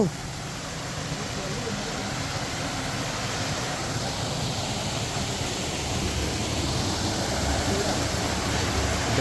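Steady broadband roar of a waterfall in a jungle forest, continuous and fairly loud from start to end, slightly swelling toward the close with no distinct events.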